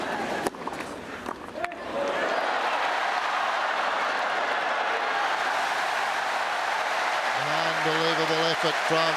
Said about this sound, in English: The crowd are just loving this.